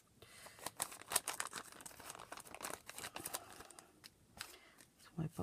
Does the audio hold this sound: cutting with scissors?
yes